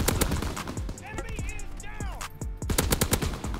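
Rapid bursts of KG M-21 rifle fire in the Call of Duty WW2 video game, with close, sharp shots repeating steadily over game ambience and a brief voice partway through.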